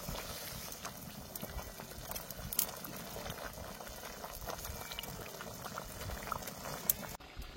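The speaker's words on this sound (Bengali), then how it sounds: "ঝোল ফুটে গেছে, ভেজে রাখা মাছ দিয়ে দিব।" Fish curry broth with chopped tomato boiling in a covered pot, a quiet steady bubbling and simmering, close and continuous, with a few faint clicks and no talk.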